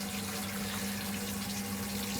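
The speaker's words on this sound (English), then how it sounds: "Okay, it's draining now." Water draining from a Hotpoint HBCA93GCAREUK dishwasher, a steady close rushing of liquid with a constant low pump hum underneath, unbroken for the whole short stretch.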